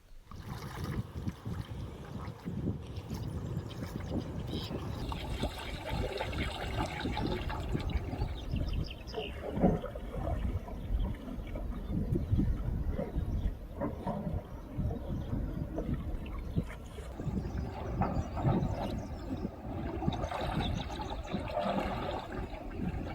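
A canoe paddle blade strokes through the water during a cross bow rudder manoeuvre, with steady close splashing and swishing under wind and soft water noise and no talk.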